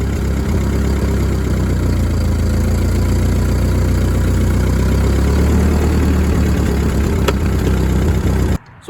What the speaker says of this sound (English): how I start and operate the Ford 8N tractor